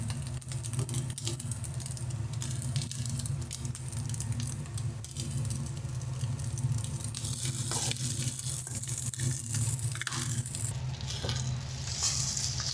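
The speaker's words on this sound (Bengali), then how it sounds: "ভালো করে ডিম আর পেঁয়াজের সঙ্গে ম্যাগিটাকে মিশিয়ে নেব।" Maggi noodles sizzle steadily in a hot pan while being stir-fried with egg and onion, with faint scraping of the spatula heard close up and no talking.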